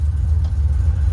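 A car engine rumbles low and steady at close range, a smooth idling drone with no voices.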